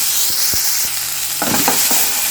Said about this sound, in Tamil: நல்லா அதை வதக்கி விட்டுக்கோங்க. தக்காளி நல்லா வதங்கணும்.